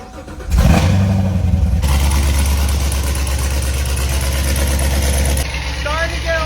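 A Chevrolet Corvette C7 Z06 engine bursts to life with a sharp, loud startup flare, then settles into a heavy, steady rumbling idle up close, with a brief voice heard faintly over it near the end.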